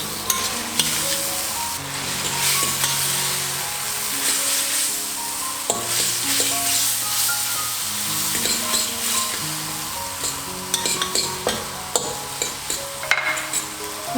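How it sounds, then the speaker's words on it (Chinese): Mee goreng noodles stir-fry in sauce in a wok, with loud close sizzling, repeated scraping and clinks of a spatula against the pan, and a sharper clatter of tossing toward the end. "然后再倒入适量的水炒一炒"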